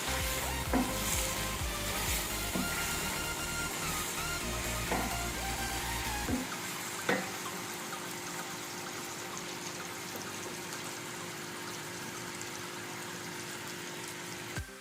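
Chicken with green chillies fries steadily in a pan, a soft continuous sizzle with occasional stirring clicks and a low hum easing off partway through.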